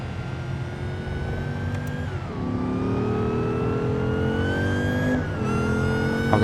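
Car engine revving steadily while driving in BeamNG, the note rising then dropping and climbing again with gear changes, loud and continuous with no talk, on an unstable, hard-to-handle vanilla car.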